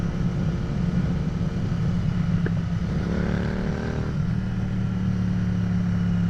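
A 650 motorcycle pulls hard on a street ride, its engine a steady, loud close-up drone with wind rush, rising briefly in pitch as it accelerates.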